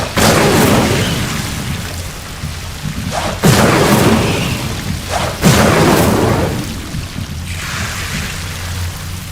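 A burst of Incendio fire spell blasts in a Harry Potter video game, three heavy booming whooshes in sequence, loud and close, over a constant low rumbling game ambience.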